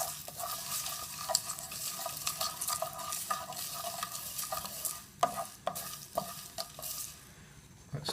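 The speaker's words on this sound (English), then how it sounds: "I'm going to turn the heat off, give that a stir." A spoon scrapes and taps repeatedly through dry Madras curry powder spices in a hot pan, with faint crackling sizzle beneath the rhythmic stirring.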